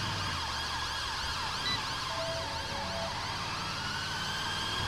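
A fire engine siren in the video game GTA 5, set in London, wailing steadily and loudly throughout with rising and falling sweeps over low traffic rumble.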